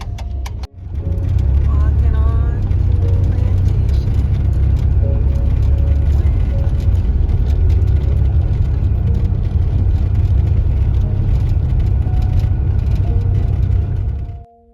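Steady, loud road and engine rumble of a vehicle driving up to a plantation in the American South, continuous from start to finish before cutting off abruptly.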